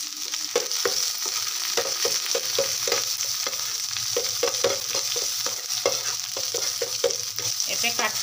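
Onions cook in a pan over medium heat, giving a continuous sizzle punctuated by regular, rhythmic clicks of a spoon stirring, close and fairly loud, with no talk.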